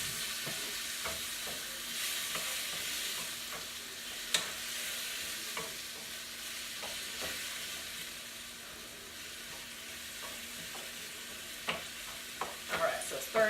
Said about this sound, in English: Stir that in there pretty good